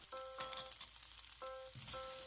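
Onion, garlic and ginger paste sizzles steadily in a hot pan while being sautéed for butter chicken, a continuous close frying hiss with brief tonal clinks of a utensil on the pan.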